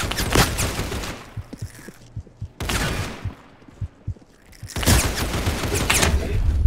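Gunshots in the Roblox game Criminality, with a Beretta and Tommy gun in play: dense bursts of rapid automatic fire open and close the stretch, separated by scattered single sharp shots at close range.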